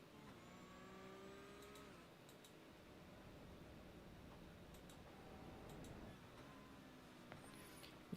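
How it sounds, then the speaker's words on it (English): GT4 race cars on the Nürburgring during the 24-hour race, a faint distant engine drone with rising and falling tones as cars pass, plus a few light ticking clicks. "So that's some GT4s coming up."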